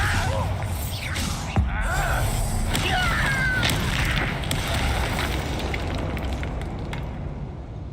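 Bombarda spell explosions in the video game Hogwarts Legacy boom in a few sharp blasts amid rumbling debris and crackling effects, with a voice faintly present beneath.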